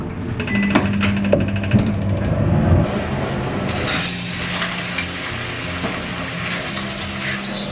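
Beef stir-frying in a wok in a home kitchen, a steady close sizzle with clattering of the spatula on metal, loud at first and easing off.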